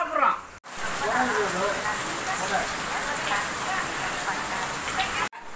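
Heavy rain pours steadily outdoors, a dense, continuous hiss with scattered drops, while a voice speaks indistinctly beneath it.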